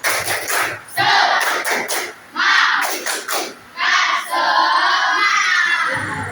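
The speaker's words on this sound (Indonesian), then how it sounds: "Tepuk semangat." Schoolchildren in an elementary classroom shout a rhythmic 'tepuk semangat' clapping chant together, loud bursts of voices in short rhythmic phrases, with claps mixed in and a few brief gaps.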